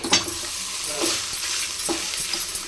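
Chitranna, lemon-style rice with dried red chillies, frying with salt in a pan, giving a steady sizzle with repeated stirring scrapes, close and moderately loud, no voices.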